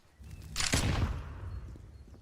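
Gunfire in a Counter-Strike match: a short burst of shots rises sharply mid-clip, followed by a sustained rumbling tail, fairly close and loud against low game ambience, with no talking.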